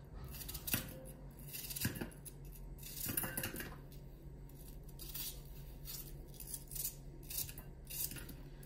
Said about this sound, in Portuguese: A cebola também vem cortar assim aos bocados.